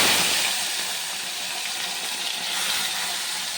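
Washed fish rubbed with salt and turmeric, added to hot oil for a Bengali bata fish curry, giving a steady, loud, broadband hiss that runs unbroken for a few seconds with no voice over it.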